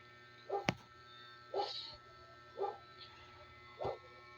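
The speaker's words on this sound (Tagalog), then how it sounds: "ang ingay ng mga aso" Neighbours' dogs bark from a distance, four separate faint woofs spaced about a second apart, with a sharp click early on.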